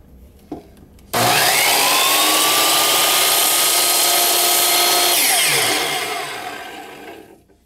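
A power saw cuts through a quarter-inch wooden dowel in a workshop, starting abruptly after a brief quiet moment, then a loud, steady whine that holds for about four seconds before tapering off as the blade spins down.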